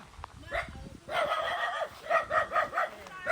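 A dog in a misty mountain village barks in a quick rhythmic series of yips, five or six in close succession. The barks are fairly near and loud, and there is rustling and movement underneath.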